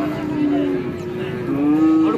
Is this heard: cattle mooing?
yes